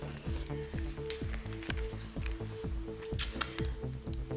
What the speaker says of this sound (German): Vielleicht könnt ihr jetzt dieses leise Brutzeln hören. Das ist die Butter unter unserer Alufolie.